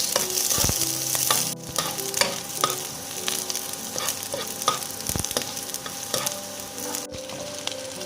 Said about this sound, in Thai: Stir fried garlic vegetable oil ผัดกระเทียมในน้ำมันพืชครับ